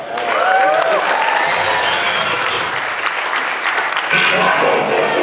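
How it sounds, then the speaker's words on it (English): Convention crowd at a 2014 Dinobot panel gives loud, sustained applause for Grimlock, with cheers and voices mixed into the dense clapping throughout. "Give another round of applause for Grimlock."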